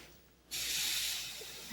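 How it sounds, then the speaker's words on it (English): Hot iron on its highest setting pressed and held in place on quilting fabric, giving a sudden steady hiss of steam that slowly fades, quiet and close. "I have iron. It's on the highest setting. And I'm just going to put it on there. You can hear it sizzle."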